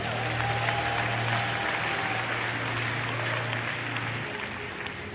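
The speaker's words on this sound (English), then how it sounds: "I think you should give them a great round of applause." A church congregation applauds the prayer department with sustained, dense clapping that holds steady and then tapers slightly at the end.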